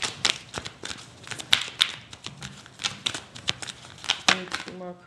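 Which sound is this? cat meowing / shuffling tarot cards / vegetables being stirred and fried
shuffling tarot cards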